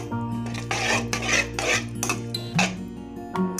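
Metal utensil scraping and clinking against a pan while stirring spices, chilli powder and salt for potato gravy, in several rhythmic strokes, close and fairly loud, with no voices.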